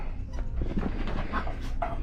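Dogs scuffle and pant nearby on a boat, with paws scrabbling and small whines over a low rumble of wind or engine noise.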